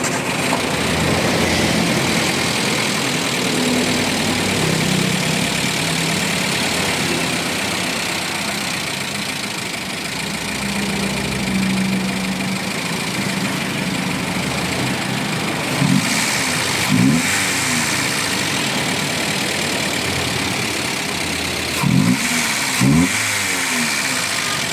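A vehicle engine runs after its air cleaner has been refitted. It idles steadily at close range with a rough drone, then gives a few short, sharp revs near the end.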